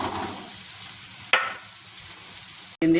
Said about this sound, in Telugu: ఒక 2 నిమిషాలు దీన్ని కలుపుకొని మగ్గనిద్దాం